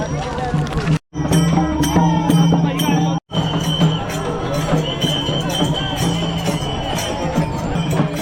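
A dense crowd of pilgrims walking in a palkhi procession on the Pune-to-Saswad route fills the scene with steady babble, shuffling movement and scattered voices, close and loud, with two brief dropouts.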